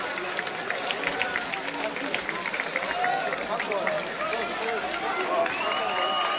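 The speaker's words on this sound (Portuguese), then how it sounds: "Agora a torcida do Noroeste comemorando com a torcida." Noroeste supporters celebrate in the stands of a Paulista Série A3 football stadium after a win over Flamengo, a dense, steady roar of crowd cheering and chanting that carries on without pause, heard from a distance with a faint voice over it.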